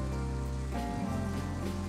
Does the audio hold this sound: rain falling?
yes